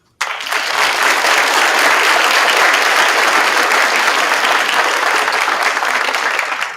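Audience applause fills a scholarship ceremony hall, breaking out abruptly and holding as a loud, dense, sustained wave of many clapping hands from start to finish, with no speech over it.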